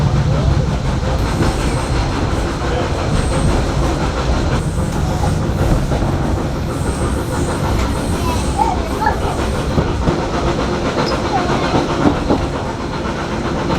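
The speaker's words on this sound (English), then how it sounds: "First ever ride on a train is on a steam one." Inside a steam train carriage on the Bluebell Railway, a steady rolling rumble and rhythmic clatter of wheels on track continue throughout, loud and close, with faint voices now and then underneath.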